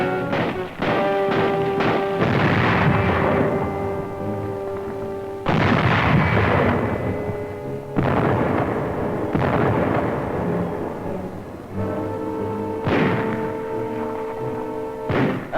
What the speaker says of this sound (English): The Nazis direct their fire across the harbor.